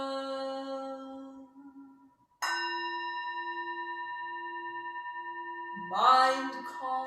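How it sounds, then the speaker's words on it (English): A meditation bell at a Sunday morning service, struck twice with long ringing decays, followed by a voice near the end. "sound of the bell."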